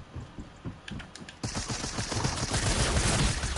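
Rapid gunfire bursts out in the Fortnite video game, quieter shots at first, then a sustained, louder fusillade of closely spaced reports.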